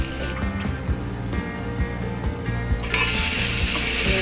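Masala and boiled potato fry in a pan for aloo paratha, a steady sizzle with repeated scraping and stirring knocks, then a sudden louder burst of hissing near the end.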